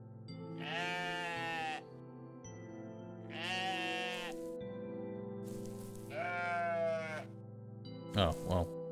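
Sheep in the video game OneShot bleat four times, drawn-out wavering cries spaced a couple of seconds apart over a sustained game music drone, with a sharper sound at the end.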